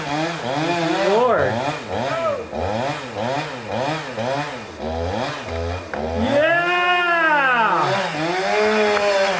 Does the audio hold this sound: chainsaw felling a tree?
yes